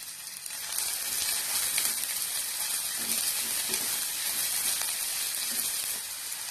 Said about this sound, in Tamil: கொஞ்சம் கருவேப்பிலை இதை போட்டு எல்லாத்தையும் நல்லா வதக்கி விட்டுறலாம்.